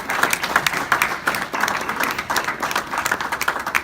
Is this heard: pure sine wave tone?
no